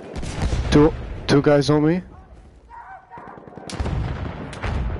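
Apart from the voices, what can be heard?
machine gun fire in Battlefield 1 video game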